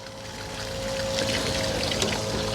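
Water from an RV supply line runs steadily through an inline water filter, a continuous close trickling pour with a low hum underneath, growing slightly louder partway through.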